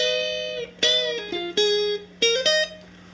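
Guitar lead line from a song, played alone as clear sustained notes in short phrases, a few bends and slides between pitches, with a faint steady hum underneath.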